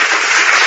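A crowd applauds in a dense, continuous burst of hand clapping, steady and fairly loud across the short moment, with no voices over it.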